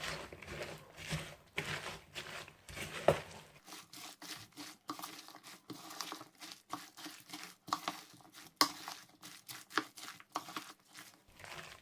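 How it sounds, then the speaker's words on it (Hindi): Chopped vegetables, spinach and onion, being mixed by hand into a thick gram flour batter for pakoras, with close, irregular squelching, rubbing and crinkling sounds and no talk. "मैंने बेसन में सारी सब्जियों को अच्छे से मिक्स कर लिया"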